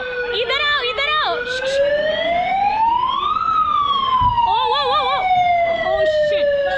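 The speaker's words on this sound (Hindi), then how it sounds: "सायरन बज चुका है।" A train's wailing siren sweeps up and down steadily, loud and close, with other siren yelps and shouting voices layered over it.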